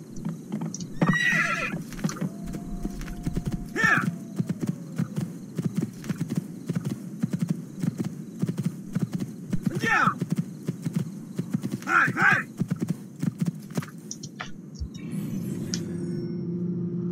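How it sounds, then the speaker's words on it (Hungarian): Horse hooves in the video game Assassin's Creed 2 clop steadily throughout, with a few brief whinny-like calls rising over the rhythm. "Miért nem megy a ló?"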